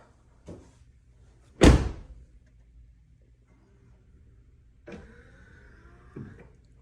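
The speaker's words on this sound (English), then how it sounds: "Now if I close the door" A 2019-2025 Chevrolet Silverado or GMC Sierra 1500 pickup door shuts with one solid thud, preceded by a soft click and followed later by the whir of a power window moving.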